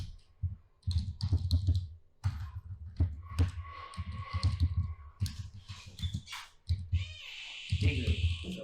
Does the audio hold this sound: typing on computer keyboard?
yes